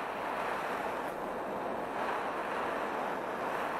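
A gas torch flame, fed from a cylinder, roars steadily and loudly as it heats an O2 lambda oxygen sensor to burn deposits off the inner center probe; the broadband hiss holds constant throughout, with no talk.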